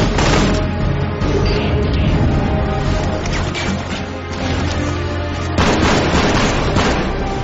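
Dense, continuous video game gunfire with booms and bursting blasts, loud and unbroken throughout, with a brief lull mid-way before the shooting swells again.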